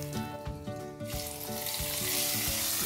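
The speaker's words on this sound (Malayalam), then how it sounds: "എല്ലാം കൂട്ടിയിട്ട് ഒന്ന് മിക്സ് ചെയ്ത ശേഷം നമുക്കിത് കറിയിലേക്ക് ഒഴിച്ചു കൊടുക്കാം" Hot tempering of curry leaves and Kashmiri chilli poured into a vegetable kurma, a loud sizzle that swells into a bright, crackling hiss as it hits the curry, with tonal hum and rhythmic knocks beneath.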